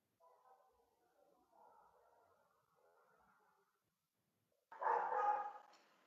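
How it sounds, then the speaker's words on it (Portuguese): A pet dog lets out one loud, sharp bark at home during an online cultural forum meeting, bursting in close after a stretch of faint, low voices. "vou pedir desculpa para vocês aí pelo volume do latido"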